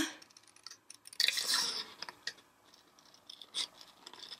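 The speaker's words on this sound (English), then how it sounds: "a pair of paper snips. And I'm just going to go ahead and trim." Quiet crisp snips and cutting scratches from paper snips trimming stamped paper, with a few brief pauses between cuts.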